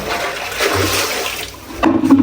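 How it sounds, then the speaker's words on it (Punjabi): Water gushes out in a loud, continuous rushing pour at close range, then a brief splashing surge near the end. "ਪਾਣੀ ਰੋੜ ਦਵਾਂ ਇੱਕ ਵਾਰੀ ਜ਼ਰਾ"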